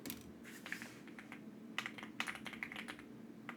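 Quiet typing on a computer keyboard, a run of soft irregular key clicks with brief bursts of faster strokes, heard close over a low steady background hum.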